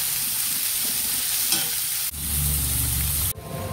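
Spices for a dill (shepu) curry tempering in hot oil in a pan, a loud continuous sizzle and crackle with stirring and a couple of abrupt shifts as the pan is worked, no talking.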